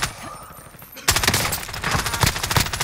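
Rapid automatic gunfire in Call of Duty, loud and sustained in dense bursts that erupt suddenly after a quieter stretch, with players talking faintly underneath.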